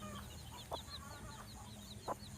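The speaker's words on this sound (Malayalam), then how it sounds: "കോഴിയും കുഞ്ഞുങ്ങളാണ് കേട്ടോ" A hen clucks in short soft bursts while chicks peep repeatedly in the background, close by with a low steady hum underneath.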